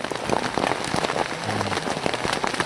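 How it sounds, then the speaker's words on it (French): Rain falls hard during a storm at a bay with icebergs in Greenland, dense close pattering on surfaces with gusty rises, loud and unbroken, with no talking. "Le problème de la pluie c'est que ça mouille quoi."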